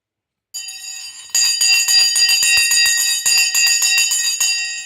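A stock exchange opening bell rings loudly and continuously, a fast metallic ringing that starts faintly and then jumps in volume, sustaining for several seconds without any talk.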